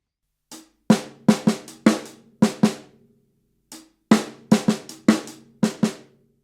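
A short drum groove of crisp snare and hi-hat strokes in two bursts, mixing soft ghost taps with sharper hits, close and clear.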